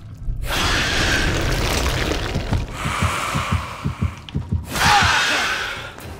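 Heartbeat terror-radius cue from Dead by Daylight, heard in a match against the Xenomorph killer: a low droning hum gives way to a run of deep, rhythmic thumping beats that quicken, loud and close.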